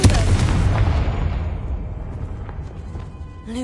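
A heavy explosion from the Confringo fire spell in Hogwarts Legacy, cast inside a dark tomb, opening with a loud boom that rumbles and slowly fades away over a few seconds.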